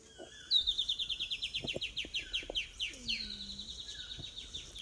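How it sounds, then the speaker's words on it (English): A white-bellied antbird calls from a dark thicket in eastern Panama, giving a long, rapid series of clear whistled notes that rises then slides down, with another bird calling faintly in the background and no voices. "White-bellied ant bird is always in dark thickets."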